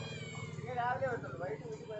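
A pet cat gives a couple of drawn-out, rising and falling meows nearby while a person talks at the same time.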